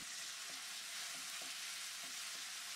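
Garlic and cherry tomatoes sauté in olive oil in a pan, a soft continuous sizzle with a few gentle, evenly spaced stirring taps underneath.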